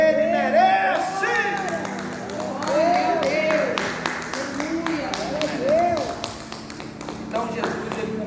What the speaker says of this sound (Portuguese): Se você crê, aplauda Ele, porque Ele merece.